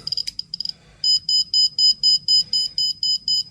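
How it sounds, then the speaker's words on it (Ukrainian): A rapid series of shrill electronic beeps from an SBM-20 Geiger counter alarm, first irregular and short, then settling into a steady, evenly spaced pulsing alarm with faint clicks underneath. "вже спрацювала сигналка."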